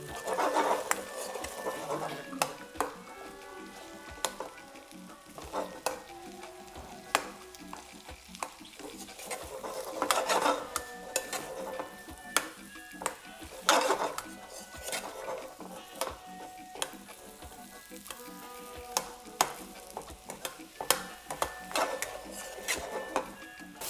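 Brinjal bhaji with tomato cooks restaurant style in a pan over low gas, stirred every so often: a soft continuous sizzle broken by repeated metallic scrapes and clinks of the spoon against the pan.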